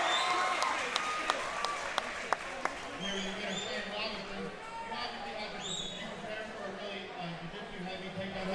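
A fight-night crowd at a RIVAL FC event cheers and claps for the winning fighter, sharp claps standing out at first before a dense roar of voices and whoops continues under loud talk.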